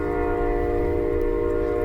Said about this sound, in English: we should be talking about the train going by